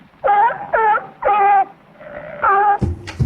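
Sea lion barking close up, a series of four or five loud, honking, slightly whining calls in a steady rhythm with short gaps, followed by a brief thump at the end.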